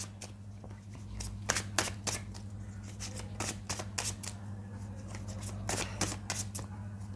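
Tarot cards being shuffled by hand, a series of quiet crisp riffling flicks repeating irregularly over a steady low hum, close up with no voices.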